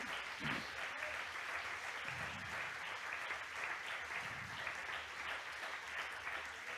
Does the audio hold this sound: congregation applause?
yes